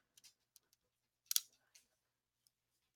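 Calculator keys pressed one at a time while entering 900 during an Algebra 1 lesson: a handful of light, sharp plastic clicks spread irregularly, with a brief cluster of rapid taps near the middle, fairly close and quiet, with no voices.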